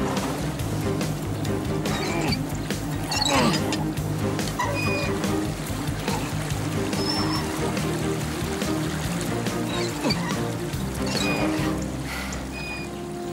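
Continuous rushing water flowing in a stream, steady and fairly loud throughout, with faint thin tonal whistles scattered over the wash.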